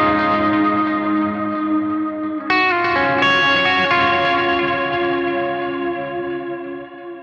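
Electric guitar chords ring out with shimmering delay and washy reverb, a fresh strum midway, then the echoing tone slowly fades.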